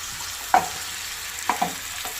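Pieces of butter garlic chicken shallow frying in a pan: a soft, even sizzle close by, broken by a few small taps or pops, with no one speaking.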